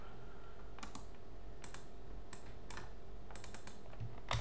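Computer keyboard keys pressed for copy and paste shortcuts, a sparse series of quiet, sharp clicks at irregular intervals over a faint steady hum, with no talk.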